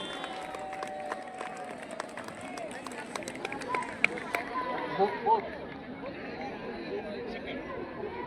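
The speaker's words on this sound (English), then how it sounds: "Please big clap to them" Schoolchildren and staff at an Independence Day celebration applaud the third-prize house, a steady spread of clapping from a large crowd with voices and chatter mixed in, fairly distant and continuous throughout.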